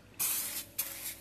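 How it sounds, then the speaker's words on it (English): Spray starch sprayed onto fabric from an aerosol can, two short hissing bursts close up, the first longer than the second, with no talking. "It's just a spray starch, so whatever spray starch you use or can get hold of, make sure you give it a good shake."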